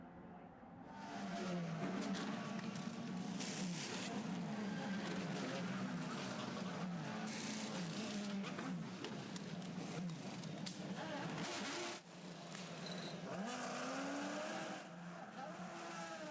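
IndyCar race cars pull off pit road at the Honda Grand Prix of St. Petersburg, engines roaring and revving continuously at close range with tire squeal, a commentator talking over the din.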